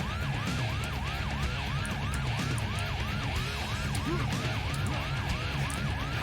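Siren in the video game Painkiller Hell & Damnation, a loud rapid whooping wail cycling about twice a second over rumbling game noise, continuous and close.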